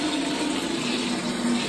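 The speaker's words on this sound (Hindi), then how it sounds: "तो मैं अभी पानी भर रहा हूँ" Tap water filling a container indoors at home, a steady close rushing pour running without a break and with no talk.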